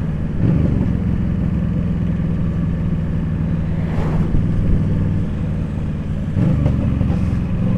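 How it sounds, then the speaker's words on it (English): A big truck approaches on a narrowing rural road past cattle fields. Its heavy rumble rises and passes under the steady, loud engine drone of the vehicle being ridden. "Big truck coming."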